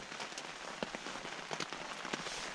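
Steady patter of rain drumming on taut tent fabric close by, with scattered louder drops hitting through a continuous hiss, heard from inside a tent on a canoe trip in Algonquin Park.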